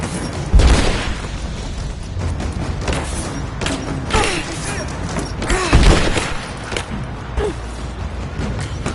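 Explosions and gunfire in Rise of the Tomb Raider, several loud booms and thuds scattered through a dense, noisy battle with shouted voices in the mix.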